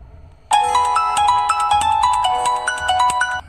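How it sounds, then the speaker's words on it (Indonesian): A mobile phone ringtone starts abruptly and plays a bright, repeating electronic melody, loud and close, with no voices. "tiba-tiba handphonenya berdering"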